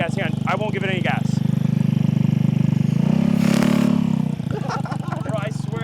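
A nitrous-fitted scooter motor runs at a close, steady, buzzing idle that swells briefly in the middle and then settles. Voices talk over it at the start and again near the end.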